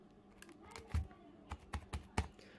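Keys tapped on a computer keyboard while a password is entered into an account page, a few irregular clicks and clacks spread over a couple of seconds, close and fairly quiet, with no one speaking.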